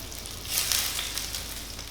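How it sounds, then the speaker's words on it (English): Bao doughnut dough sizzles and crackles in hot oil in a pan over medium heat at close range, a steady frying hiss with bright pops scattered throughout and no talking. "pan frying is absolutely fine"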